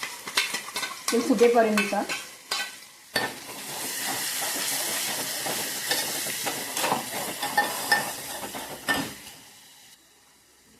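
Green soybeans in green masala fry and get stirred in a pan, a busy sizzle with scraping spoon strokes and clinks of cookware. A brief voice comes in near the start, and the sizzling continues close and steady until it cuts off near the end.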